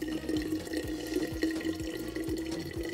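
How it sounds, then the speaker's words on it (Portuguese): Water pours steadily up to the fill line of an instant food cup, a continuous close trickle and splash with small bubbling pulses, heard alone without speech. "Colocar água até a marquinha."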